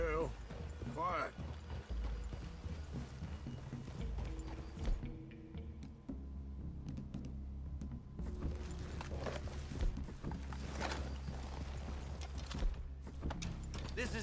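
Horse hooves clopping at a walk in the Western video game Red Dead Redemption 2, a steady rhythmic clip-clop mixed with ambient game sound and background music over a tense approach through a clearing.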